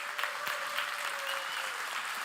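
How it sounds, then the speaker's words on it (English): Applause from a conference audience, a brief, even burst of many hands clapping at moderate level, with a faint steady tone running beneath it. "I would like another round of applause for him."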